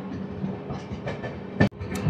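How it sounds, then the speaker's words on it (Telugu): A passenger train on the Visakhapatnam–Araku line pulls away from Kottavalasa Junction, giving a low rolling rumble with a sharp clank or jolt partway through; no one speaks. "కొత్త వలస స్టేషన్లో ఒక 10 minutes హాల్ట్ ఆగిన తర్వాత అయితే మా ట్రైన్ అయితే స్టార్ట్ అయిపోయింది"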